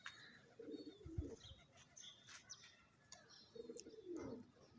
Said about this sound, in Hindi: पांच कबूतर उड़ाए हैं